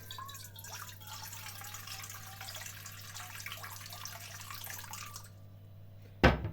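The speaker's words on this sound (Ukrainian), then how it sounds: "Беремо тепленьку водичку, ну, таких градусів 25. І наливаємо 200 мл." About 200 ml of warm water, around 25 degrees, pours steadily into a container for about five seconds, a soft continuous splashing, then stops with a short clunk.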